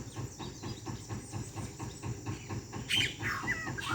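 Yellow-rumped cacique (japim) calling in the Amazon, a mimic of other birds, heard faintly at a distance with short whistled notes near the end over a rhythmic mechanical background.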